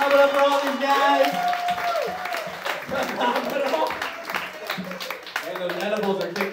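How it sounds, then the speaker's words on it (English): Audience at a stoner-themed sobriety-test comedy game show at Asylum NYC applauds the contestants, a steady roar of clapping and crowd noise running throughout while a voice talks over it. "Clap it up for all these guys."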